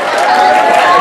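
A brief burst of loud, dense crowd cheering and clapping at the 2019 PSA awards dinner, a close continuous roar with voices mixed in.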